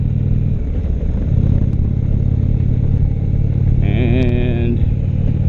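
A 2016 Indian Chieftain motorcycle engine drones steadily while riding, a loud, continuous low rumble mixed with wind noise, and someone talks over it throughout.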